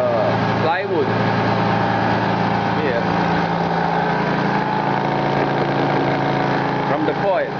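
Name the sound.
motor running, vibrating plywood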